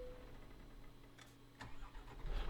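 Truck engine restarting in Euro Truck Simulator 2 video game, a quiet low idle, then a couple of sharp clicks and a cranking burst that swells into a louder rumbling engine.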